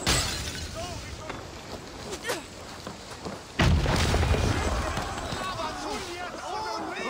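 Explosion in Assassin's Creed Valhalla, a sudden loud boom midway that rolls into a sustained rumbling roar, with game sounds and a voice talking around it.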